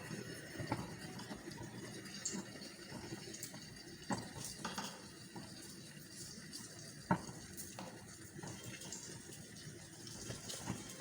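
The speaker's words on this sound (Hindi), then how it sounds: "मीट बॉल को मैंने 2 टीस्पून ऑयल डाल के पैन में, और ये मीट बॉल रखती हैं फ्राई करने के लिए।" Meatballs fry in two teaspoons of oil in a pan for spaghetti, a faint, steady low sizzle broken by soft scrapes and occasional knocks of a utensil against the pan.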